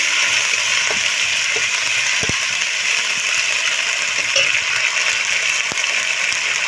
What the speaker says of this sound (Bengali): মশলাটা আমি খুব ভালো করে কষিয়ে নেব।